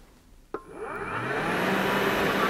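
A Bosch BCH86SILGB cordless vacuum cleaner clicks on and spins up with a rising whine, then runs at a steady, loud, continuous whir.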